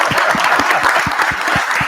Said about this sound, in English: Let's give it a clap here.